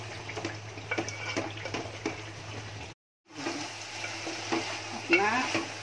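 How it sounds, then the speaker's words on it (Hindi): Potatoes with spinach cook in a pan, giving a steady close sizzle with stirring and scraping throughout, interrupted by a brief silent cut. "इधर अपना पालक का आलू पक रहा है"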